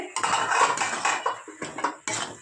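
Metal lid clattering onto a pot of softened tomatoes being cooked for a tomato pickle, a few close clanks and scrapes of cookware in quick succession with short pauses, no talking.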